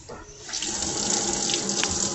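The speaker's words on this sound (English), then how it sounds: "We got water. Okay, you want to let it run a little bit" Water from a sink tap runs in a steady, full rush, close and continuous for the whole stretch with no voices over it.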